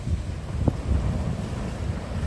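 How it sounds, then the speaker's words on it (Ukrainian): Large sea waves roll onto the shore at Fontanka near Odesa, a continuous low rumbling wash heavily buffeted by wind noise on the microphone, with no voices. "А хвилі такі великі, дуже великі."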